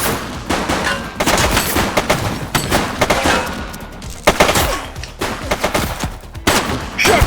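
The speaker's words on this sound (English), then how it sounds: "Shots fired!" Gunfire in the police video game The Precinct, rapid bursts of sharp shots and volleys in uneven clusters, loud and close, continuing throughout with no talk.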